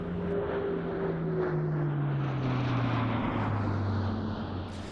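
Airbus A400M military transport aircraft passing overhead at an air show, a steady loud turboprop drone with a slowly falling engine pitch, alone without voices.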